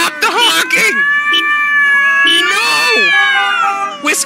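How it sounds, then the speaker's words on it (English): Cats meowing and caterwauling loudly and close, drawn-out wailing yowls rising and falling across the stretch, with brief vocal interjections between. "Fucking cats, stop the honking."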